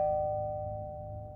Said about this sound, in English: Pete and I slowly walked to the house and rang the bell.